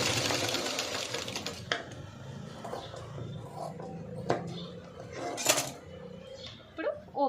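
A sewing machine runs steadily while stitching a folded fabric hanging, its motor whirring continuously with small clicks and handling noises, and a person speaks over it at times.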